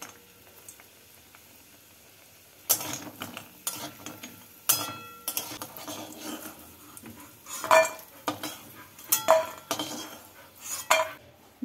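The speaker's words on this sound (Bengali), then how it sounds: "এবার এই তেলের মধ্যে প্রথমে বড়িগুলোকে ভেজে নিচ্ছি।" Lentil bori dumplings are dropped into hot oil and fried, soft sizzling under repeated clinks and scrapes of a utensil against the pan, close and fairly quiet, with no speech.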